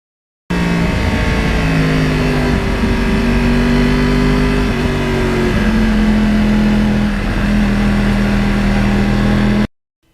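Yamaha R1 crossplane motorcycle riding along quiet roads beside the Hudson River in lower New York State, its engine a close, steady, continuous drone with small shifts in pitch and no talking over it.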